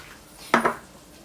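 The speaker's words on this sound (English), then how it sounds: "we're going to give that a good mix." A utensil knocks twice against a pot, a quick pair of close, hollow clinks, while mash for a chicken casserole is mixed with salt and thyme.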